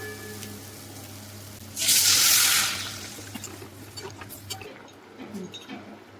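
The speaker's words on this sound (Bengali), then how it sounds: "এবার আমি এর মধ্যে দিয়ে দেবো জল, মিশিয়ে দেবো।" Water is poured into frying masala for a prawn masoor dal, a loud hissing gush of about a second, then quieter bubbling and stirring in the pan.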